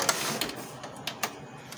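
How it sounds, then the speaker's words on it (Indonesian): A Canon MP287 inkjet printer showing error P03/6000 makes a series of sharp mechanical clicks and ticks as it powers on, several distinct snaps spread unevenly over a low whirring background. "Printer kalau dinyalakan, cetek-cetek gitu."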